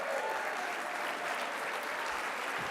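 An audience at a health organisation's anniversary celebration applauding the Alliance team, a steady, dense clapping from a large crowd, continuous and even throughout.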